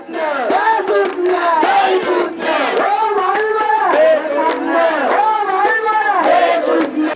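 Protest crowd at the Occupy Galle-Face site, Gotagogama, a dense, continuous roar of many voices shouting and chanting together, loud and close throughout with rising and falling cries.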